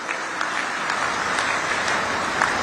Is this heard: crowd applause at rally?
yes